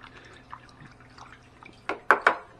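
Fish tank water treated with ammonia detoxifier is stirred by hand, with soft faint sloshing that rises into a few brief, clearer splashes near the end.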